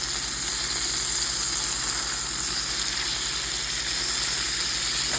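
Bacon frying in hot grease in a pan, an even, continuous crackling sizzle with a bright hiss, close and steady throughout, with no voices.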